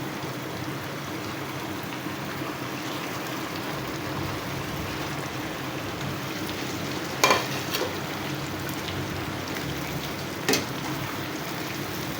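Pieces of bitter gourd frying in hot oil in a pan with fish, a steady close crackling sizzle with a few sharp scraping knocks from stirring.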